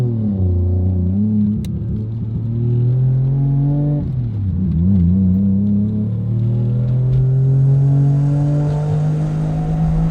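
A turbocharged three-rotor Mazda RX-7 rotary engine revs up and down with a smooth, buzzy high-pitched whine, close and loud, climbing steadily toward the end.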